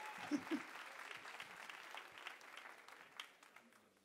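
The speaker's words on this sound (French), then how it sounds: "Encore un tonnerre d'applaudissements" Applause from the crowd at a talent night, fairly faint and distant, a thin scatter of clapping that gradually tapers off, with a couple of brief louder sounds near the start.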